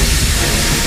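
Broad, steady hiss of escaping steam from a steam locomotive with a burst safety valve, loud and continuous throughout with a low rumble beneath and no voices.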